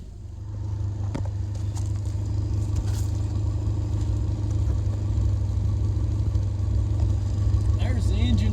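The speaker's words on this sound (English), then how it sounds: "There's the engine running." A car engine idles steadily up close with a diesel heater installed and running, a continuous low rumble with a faint higher whine that holds even for the whole stretch.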